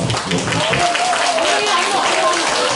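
Festival audience at an outdoor ginseng festival show applauding a performer, a brief burst of clapping mixed with voices talking over it.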